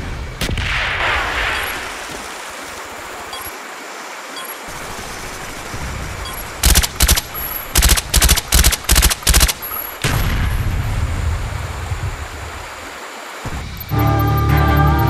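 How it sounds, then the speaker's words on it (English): Mortar strike in Call of Duty Black Ops on a jungle demolition map: loud rumbling battle noise, then a rapid series of about eight heavy booming impacts in quick succession, followed by more roaring combat ambience. "Mortar coordinates received. Fire for effect."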